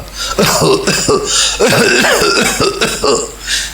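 A voice makes slow, heavy coughing and throat-clearing sounds, repeated in a steady series, close and fairly loud.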